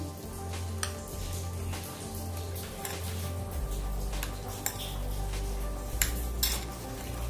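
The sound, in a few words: mixing fresh cream (malai) for bread malai toast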